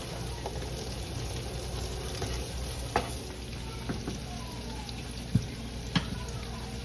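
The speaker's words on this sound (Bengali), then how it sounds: "বাঁধাকপিটা আমি এখন ভাজি করে নেব।" Cabbage fries in a pan over a low-heat stove with a soft, steady sizzle, broken by a few light clicks and taps of stirring, close and quiet.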